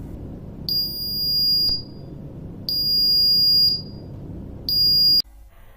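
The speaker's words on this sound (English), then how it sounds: "we can hear the beeping of buzzer at interval of 1 second" Electronic buzzer on a Firebird V robot sounding three steady, piercing tones, each about a second long and separated by roughly one-second gaps, close and loud over a low background hum.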